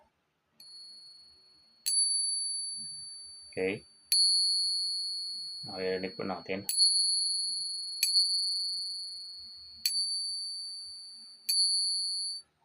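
Silver object struck during a traditional silver test, producing a bright, high, clear ring that sustains long after each strike, heard about six times at intervals, with speech in between.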